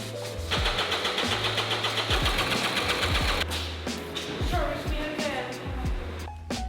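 A Rotax racing go-kart engine cranking over on a new battery with a rapid mechanical chatter, loud and close, running steadily before stuttering and stopping near the end.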